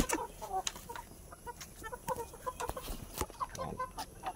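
Oriental gamefowl chickens cluck in short, scattered bursts at close range, with soft, irregular calls spread over a quiet farmyard background.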